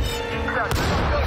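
A tank cannon fires in the war film Fury, a single sharp, loud blast cutting through a dense, rumbling battle soundscape.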